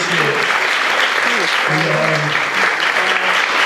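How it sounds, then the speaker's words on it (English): A comedy club audience bursts into loud, sustained applause and cheering for a guest comedian, dense clapping filling the room steadily throughout. "Big round of applause for Richard."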